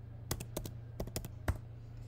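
Keys on a computer keyboard are tapped in short bursts, close and crisp, with a few quick clusters of clicks spaced across a quiet background hum.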